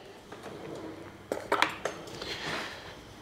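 A spoon is picked up from among kitchen dishes, giving a few close, sharp metallic clinks and scrapes of cutlery against crockery over a soft room background.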